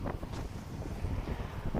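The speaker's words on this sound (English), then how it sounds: "Wind right now is running about 5 to 10 miles an hour." A mild outdoor breeze of about 5 to 10 miles an hour buffets the microphone, making a steady low, rumbling wind noise with soft gusts and no voices.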